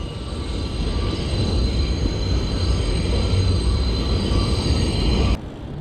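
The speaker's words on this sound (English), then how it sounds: "You hear the trains." A New York City subway train rumbles past close by on an above-ground section, a steady loud roar of wheels on rails with faint high squeal, cutting off abruptly near the end.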